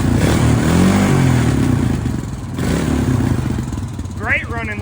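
A small red ATV engine runs steadily up close, a low rumbling drone with mechanical clatter throughout and a brief rev near the end, with a voice speaking over it.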